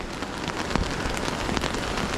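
Heavy rain patters loudly and evenly on a nearby surface, a dense continuous spatter of drops.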